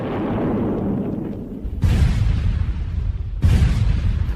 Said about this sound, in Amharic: ድንገት ምድሩን የሚያንቀጠቅጥ ፍንዳታ ተሰማ።